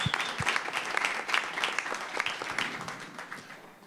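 Audience applause at an awards ceremony, a dense steady patter of many hands clapping close by, with no voices over it.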